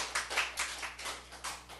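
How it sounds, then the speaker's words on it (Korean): A church congregation claps briefly for about two seconds, a quiet, somewhat distant patter of hands with no talking. "할렐루야, 우리 하나님께 박수 올려드려요."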